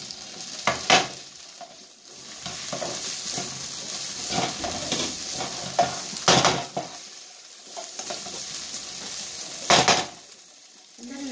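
Mixed vegetables stir-fried in a pan give a steady sizzle, with repeated scrapes and clinks of a utensil against the pan, close by and with no talking.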